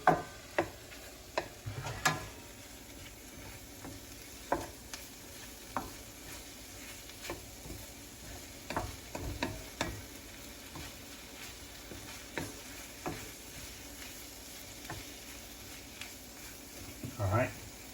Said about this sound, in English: you want to stir this until that flour has lost its raw taste